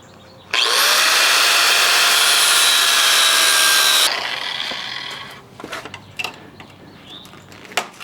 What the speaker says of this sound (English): Now we need to cut these clamps off of here that clamp the leaves together